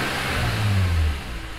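A warm BMW 330ci engine runs nearby with a steady mid-pitched rumble that swells briefly as if revved, then settles back toward idle.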